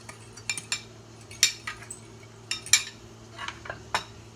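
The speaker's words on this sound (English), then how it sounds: "you just swirl with some soup and mix it" Miso paste is swirled into soup in a bowl, producing scattered close clinks and taps of a utensil against the dish, irregular and fairly crisp over a faint steady hum, with no talk.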